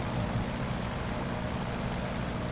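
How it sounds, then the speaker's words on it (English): A fighter plane in the Aces of the Pacific flight game dives with a steady, dense engine roar and rushing air, loud and continuous with no breaks. "you can hear the whistling of the airplane when it's in a dive"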